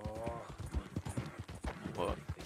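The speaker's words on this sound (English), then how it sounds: "A horse." A horse in Red Dead Redemption plods with clip-clop hoof steps, faint snorts mixed in, under near, continuous talking from a player.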